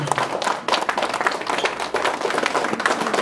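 An audience in Mulhouse greets Justine Kasa-Vubu with applause: a close, continuous patter of many hands clapping, fairly loud and sustained, with slight swells in intensity.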